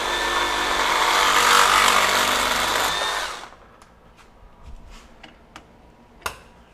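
A FLEX FX2241 24V brushless one-handed reciprocating saw rips loudly through PVC pipe for about three and a half seconds, then stops, followed by a few scattered light taps and clicks.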